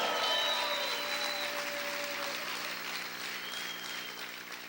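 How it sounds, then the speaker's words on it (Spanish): Church congregation applauding loudly during a sermon, a dense wash of clapping that starts strong and slowly tapers off. "Vamos a gritar y vamos a aplaudir fuerte al Señor."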